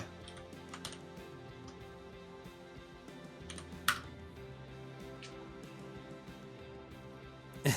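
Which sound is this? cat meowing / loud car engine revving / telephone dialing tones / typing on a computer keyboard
typing on a computer keyboard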